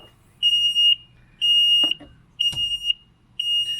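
A Waverunner's high electronic low oil alarm beeps in evenly spaced pulses, four in a row, about one per second, with a couple of faint clanks in between.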